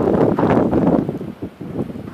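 Blizzard wind in Calgary, rough gusting roar buffeting the microphone in loud, uneven surges that ease briefly near the middle before picking up again.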